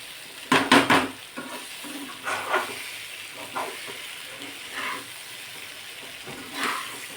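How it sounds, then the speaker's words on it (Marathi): Potato and colocasia leaf vadi sautéing in a little oil with curry leaves and coriander, brief bursts of sizzling and spatula scrapes against the pan at irregular intervals, close and moderately loud, no voices. "मस्त कमी तेलामध्ये ह्या वड्या कुरकुरीत होतात अगदी दोन मिनटं परतून घेते"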